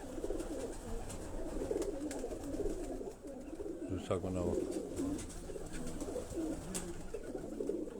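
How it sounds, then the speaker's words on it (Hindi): High-flying pigeons coo continuously in the background while someone talks over them, amid general outdoor bustle. "ये परवाजी कबूतर हैं, जोड़ों वाले नहीं हैं।"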